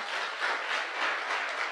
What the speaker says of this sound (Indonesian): Coba tepuk tangan dulu buat saudara-saudara ya.